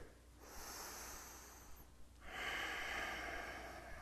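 Breathing while holding a yoga side angle pose: two slow, close, audible breaths through the nose, a long inhale-exhale followed by a stronger, airier one, with no talking.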